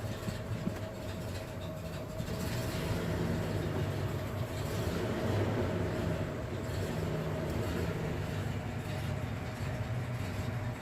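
A 1984 Ford F250 4x4 with a 7.5L V8, revived after sitting five years, running at a steady, slightly raised idle with throttle held; a continuous dense low rumble, loud and close, with no talk over it.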